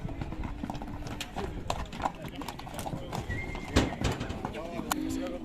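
Horses at a busy horse market near Bishkek clip-clop on hard ground with scattered hoof strikes and a short whinny, while people talk nearby over crowd noise.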